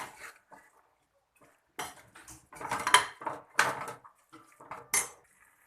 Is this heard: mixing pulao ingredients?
yes